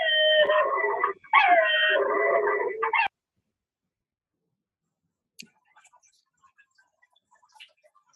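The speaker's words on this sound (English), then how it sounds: "Somebody had a little yapping dog there, it sounded like" Small yapping dog heard in the background during a poker community chat, a burst of high howling yaps lasting about three seconds, then silence with only scattered faint clicks.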